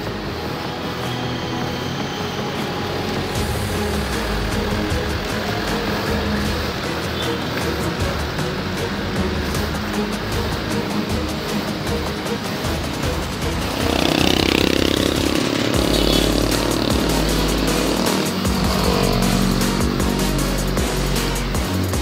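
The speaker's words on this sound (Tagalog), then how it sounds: "maraming mga sasakyan na sa kabaan ng EDSA na bumabiyahe at binabagtas ang kabaan ng EDSA" Heavy road traffic on EDSA at Balintawak, Manila, near the Quezon City boundary: a steady, loud wash of engines and tyres with passing vehicles, swelling into a closer, louder rumble partway through, with no talk.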